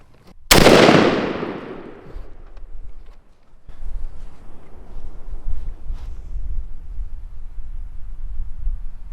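A single loud shotgun blast from a 3-inch Winchester Super X number 5 turkey load, fired at a Primos Jellyhead target 30 yards away, with a sharp crack decaying over about two seconds into low outdoor rumble.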